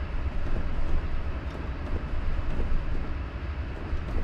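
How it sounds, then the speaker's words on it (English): Freight train rolling on the Feather River Canyon route in Train Simulator 2021 after its dynamic brakes are released, a steady, even rumble of engine and wheels holding constant throughout. "I'm going to release the brakes, the dynamic brakes, and we're going to see what the train wants to do."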